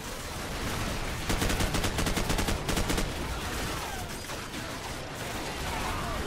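Suppressing machine-gun fire in Call of Duty 4: Modern Warfare, a sustained rapid burst of shots for about two seconds in the middle, loud over a busy battlefield din with scattered other gunfire.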